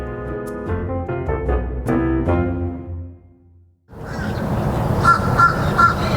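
Crows and grackles cawing, harsh repeated calls layered over a tonal drone, a brief quiet gap, then a denser, noisier chorus of birds close by.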